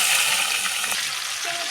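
Garlic and onion hit hot oil for a bottle gourd leaf fry and sizzle in a steady, hissing crackle, close and continuous, with a faint stir or scrape.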